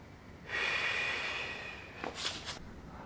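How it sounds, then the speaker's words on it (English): A person breathes in and out deeply during back-pain relief work. A long, close, hissing exhale is followed by a couple of shorter puffs of breath in a quiet room. "It's time to breathe in, let it all out and relax."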